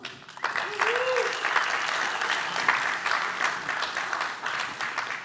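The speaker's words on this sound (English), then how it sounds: "please join me in giving our speaker one more round of applause" A conference audience gives a speaker on runtime plugins in CAP Java a steady round of applause, moderately loud and sustained for about five seconds, with a brief voice near the start.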